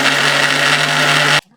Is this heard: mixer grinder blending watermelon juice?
yes